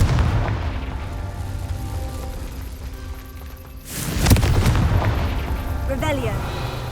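A Confringo blasting spell explodes in Hogwarts Legacy: a booming blast midway through, rising out of a dense rumble of game sound with a short tail, while a voice talks over it.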